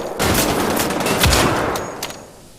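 Loud, close bursts of automatic gunfire from the shooter game Wolfenstein: The Old Blood, a dense continuous rattle of shots lasting a couple of seconds and fading slightly at the end.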